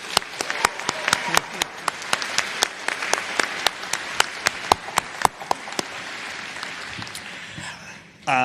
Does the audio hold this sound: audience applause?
yes